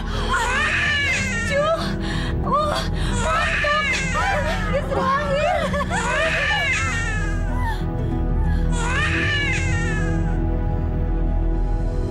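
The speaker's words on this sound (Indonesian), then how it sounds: "Saya seperti mendengar suara tangisan." A baby cries in a dramatised folk tale, with repeated wailing bursts that rise and fall over a constant background hum, then a short pause before another cry.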